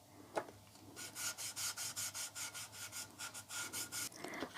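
A wooden picture frame is rubbed down by hand for a distressed, rustic finish, giving a steady series of about a dozen quick, rasping back-and-forth strokes, close and clear with no talking.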